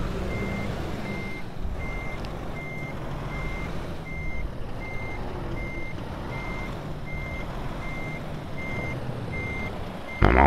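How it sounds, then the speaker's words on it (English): A truck's reversing alarm in American Truck Simulator beeps steadily and evenly, a dozen or so high tones over a constant low engine rumble, with no talking. "Come on back, Rusty."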